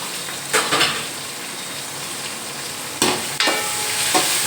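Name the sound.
sautéing onions and green chillies in a pan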